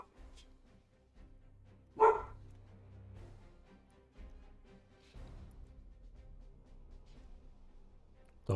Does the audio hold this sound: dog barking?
yes